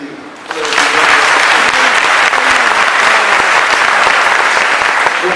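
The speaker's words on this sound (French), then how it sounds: "Vraiment merci et nous prions de les applaudir." A congregation at a Catholic priestly ordination Mass applauds the two choirs, loud dense clapping that rises after a brief quiet start and stays strong and even to the end.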